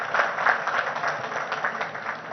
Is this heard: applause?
yes